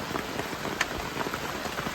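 Steady rain pattering on surfaces in a deep forest at night, with scattered louder drops and a faint thump, continuous and fairly near with no talking.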